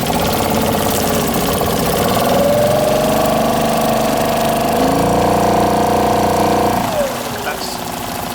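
An outboard boat motor runs loud and close, its steady drone shifting pitch as it is put in gear and later eased off, with a person speaking over it.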